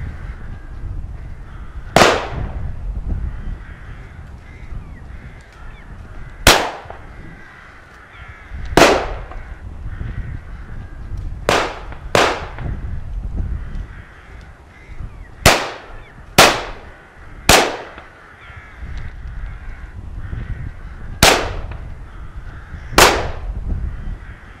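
Shotguns fire at crows during a rook shoot in Scotland: about ten loud, sharp outdoor reports spaced irregularly over the stretch, some in quick pairs, with faint background rustle between blasts.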